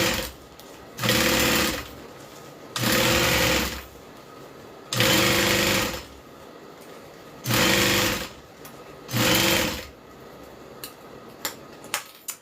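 A sewing machine stitches a bag shoulder strap for a Kiana bag in five steady, close bursts of even whirring, with short pauses between, followed by a few light clicks.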